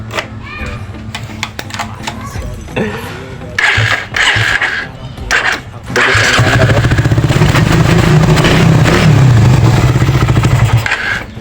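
A Suzuki Raider 150 motorcycle engine starts after its carburetor has been cleaned. Clattering and brief revving come first, then a loud, steady idle runs close by, with people talking in the background.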